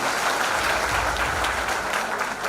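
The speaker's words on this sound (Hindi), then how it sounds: "शेफर्ड टाइगर्स फॉर इंडिया के ये सभी पदाधिकारियों के लिए जोरदार तालियां होना चाहिए।" Sustained applause from a crowd at an organisation's event in Mumbai, honoring office bearers; steady, dense clapping fills the whole stretch without breaks.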